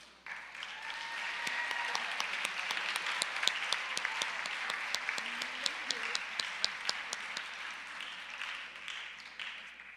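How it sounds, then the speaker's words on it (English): Audience applause at a school convocation at Annapolis Christian Academy, a steady dense round of clapping filling the room, fairly distant and moderate in level, building briefly then tapering. "I have a round of applause, please."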